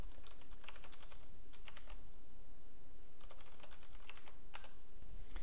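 Keystrokes of someone typing code on a computer keyboard during a Ruby programming lesson, scattered clusters of quiet clicks in bursts and pauses over a steady low background hum.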